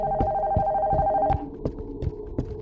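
A telephone rings inside an abandoned house in a horror game, a steady tonal ring for over a second, then it cuts off and sharp thuds and knocks follow at irregular intervals.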